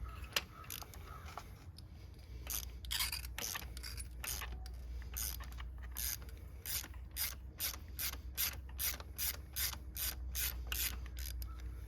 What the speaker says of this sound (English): 6-inch extension, 3/8 ratchet.